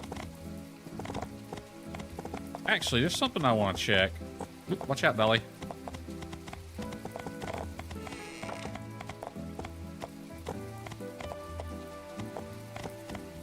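Steady rain falling in the farming life-sim game My Time at Portia, a continuous patter running throughout with hooves clip-clopping nearby, while a person talks over it.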